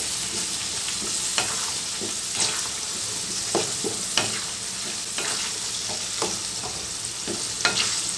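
Tamarind paste stirred into hot oil for an ivy gourd pickle crackles under a constant sizzle, with repeated scraping strokes of a spoon roughly every half second; near and unaccompanied by talk.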